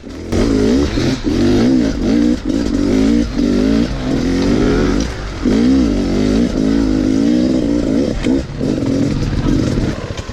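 A 2018 Beta dirt bike engine revs loud and close, rising and falling repeatedly in sharp throttle bursts with a rough, buzzing tone.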